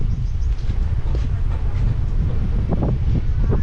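A Kacheguda to Medak passenger train pulls away from a station, producing a low rumbling roll with wind buffeting the microphone, steady and fairly loud throughout, with no talk.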